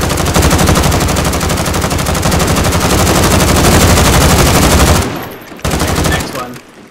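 Rapid, continuous automatic gunfire from weapons in the video game Modern Warfare, loud and dense for several seconds before cutting off, with a short final burst.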